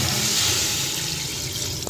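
Water from a jug pours into a pressure cooker holding paya with onion, green chilli, tomato and spices, a loud continuous splashing gush lasting a couple of seconds.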